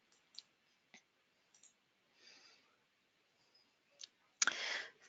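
Computer mouse clicking in a quiet room while working in payroll software: a few sparse, light single clicks spread out, then one sharper, louder click burst near the end, with no talking.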